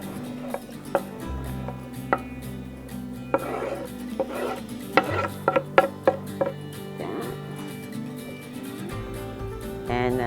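Chopped onions and celery are tipped into a pan of browning hamburger meat. Utensils clatter and scrape in sharp irregular knocks over a low sizzle, with someone talking the whole time.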